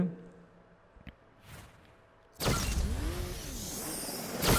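Racing car engines in the Asphalt game surge in at the start of a limited-time race event, after a quiet lead-in, into a loud, sustained roar that holds to the end.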